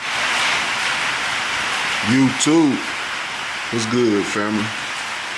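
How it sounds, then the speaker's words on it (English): Heavy rain pours down outdoors as a steady, loud broadband hiss that fills the whole stretch, while someone speaks briefly over it midway. "Sorry for the audio. It is raining like crazy."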